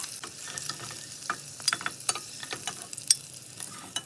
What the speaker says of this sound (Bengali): তেল দিয়ে দিব ও এক দুই মিনিট ডিমগুলি ভেজে নেব